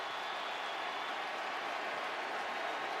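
Big stadium crowd roaring at an NFL game between the Cardinals and 49ers, a steady, dense wash of cheering and applause that holds at an even level the whole time, with no single voice standing out.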